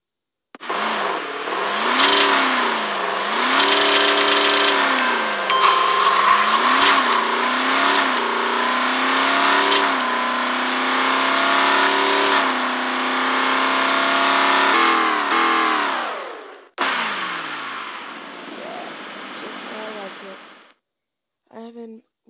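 A Ford GT sports car engine revs hard and accelerates through several gear shifts, loud and close, with rising and falling pitch sweeps for about fifteen seconds before cutting to a quieter steady drone.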